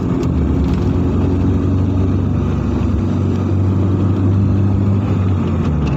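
A car engine drones loud and close in third gear along a winding, sharply curving hill road between Balikpapan and Samarinda, a steady mid-range hum with slight rises in pitch and no voices.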